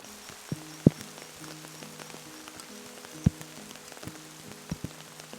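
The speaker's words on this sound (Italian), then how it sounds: "La pioggia non accenna in alcun modo a placarsi, ma rimane costante" Steady rain falls in the Maremma countryside of Tuscany, a constant soft wash of drops with a few louder individual splashes and taps scattered through it, no voices.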